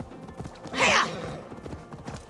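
Horse hooves galloping in the video game Assassin's Creed Valhalla, a brief louder burst of hoofbeats and rustle near the middle, with lighter clopping before and after.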